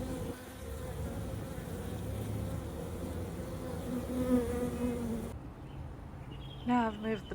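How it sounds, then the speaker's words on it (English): A honey bee swarm moving into a nuc box makes a dense, steady buzzing hum close by, with individual bees whining past now and then. "this swarm is just moving in"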